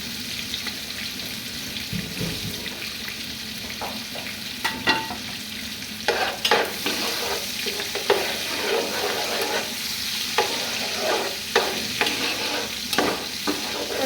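Cardamom, cinnamon, bay leaf and onions fry in a pan, a constant close sizzle broken by irregular scraping and stirring knocks, fairly loud with no talk.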